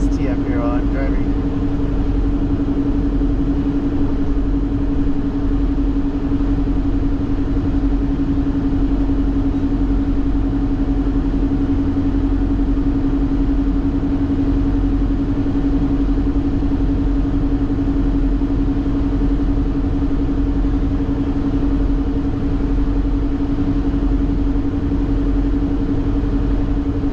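Steady road rumble and engine drone inside a car cruising the freeway between Laramie and Cheyenne, Wyoming, with a cracked windshield, a constant hum running unbroken throughout.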